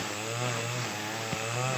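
A small engine drones steadily at high revs, a continuous buzzing whine of a brush cutter cutting grass close by, with a brief dip near the end.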